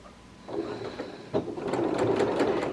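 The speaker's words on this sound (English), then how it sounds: "I do a little bit of back stitch there at the edge." A sewing machine back stitches and then runs along gathered fabric, starting quietly and building into a steady, close mechanical whirr of rapid needle strokes with a brief clunk near the start.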